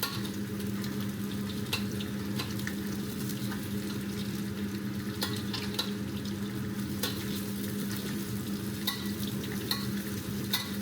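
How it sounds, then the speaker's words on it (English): Fish fries in oil in a pan with ginger and garlic, giving a steady close sizzle with scattered crackles and occasional stirring clinks throughout, and no talk. "After both sides of the fish are fried, put the prepared ginger and garlic into the pan as well,"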